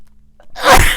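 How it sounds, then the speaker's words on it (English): A single loud sneeze, a short intake of breath followed by a sharp burst of noise, close to the listener. "sneezing."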